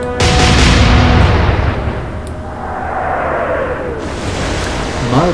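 Naval guns fire in the Atlantic Fleet video game, opening with a loud, close boom that rolls off into a long, fading rumble, followed by softer game sounds.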